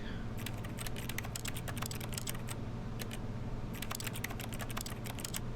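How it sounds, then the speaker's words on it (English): Bursts of rapid computer keyboard typing from The Stanley Parable video game, with clustered keystrokes in two runs separated by a short pause over a constant low office hum, heard at moderate level with no talk. "I just make keyboard noises at things"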